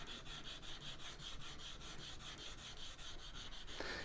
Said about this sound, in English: keep moving the shim over the entire surface of the stone so you can keep it as flat as possible